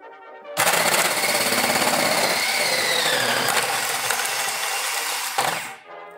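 A Philips Walita food processor grates a block of rapadura in one sustained, loud whirring burst that starts abruptly, holds steady for about five seconds with a rising whine, then cuts off.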